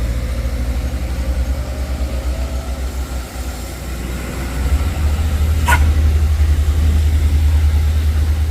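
A diesel tronton truck with a nitro setup idles close by in a steady low rumble that grows heavier partway through, with a brief sharp clank over the running engine.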